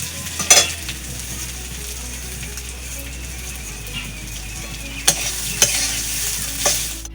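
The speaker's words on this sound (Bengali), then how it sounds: "ম্যারিনেট করা চালটা এর মধ্যে দিয়ে একটু নেড়ে চেড়ে নেব।" Marinated rice tossed into spiced oil and stirred in a pan, a low continuous frying hiss with occasional spoon scrapes and clinks against the metal, close and fairly quiet.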